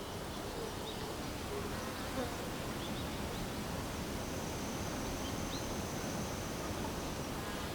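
Honeybees buzzing around an artificial feeder, a continuous soft hum of many wings at low level with no other sounds.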